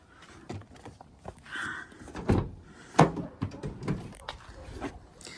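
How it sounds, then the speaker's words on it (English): The rear doors of a 2019 Ford Transit campervan are opened, with metallic clunks and latch thuds, a couple of louder bangs, and light rattling, heard up close without speech. "As far as the rear goes, you do have doors that fully open."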